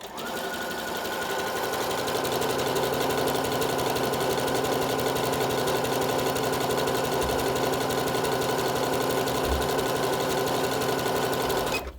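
A Tugi Premio 73 sewing machine stitches zigzag with a steady, close mechanical whir and rapid needle ticking that holds evenly for about twelve seconds before stopping.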